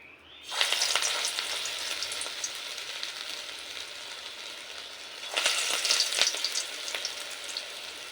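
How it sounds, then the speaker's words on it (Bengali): Bitter gourd leaf fritters frying in a small amount of white oil in a kadai, a sharp hiss that erupts as batter hits the oil, settles into a steady sizzle and then flares up loudly again, close by. "এবার বড়া আকারে তিতো বড়াগুলো আমি ভেজে নেব"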